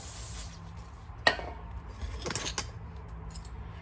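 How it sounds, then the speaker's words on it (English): A sharp click, then short hissing bursts of brake cleaner sprayed from an aerosol can during a brake job on a 2016 Toyota Highlander, close by, over a low steady background hum. "Just spray it out with the brake cleaner a little bit."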